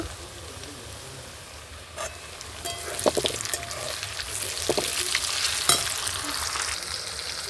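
Chopped tomato fries with reddish-browned onions in a pan, a close, steady sizzle punctuated by scattered scraping and stirring clicks that grow busier toward the end, with no talking.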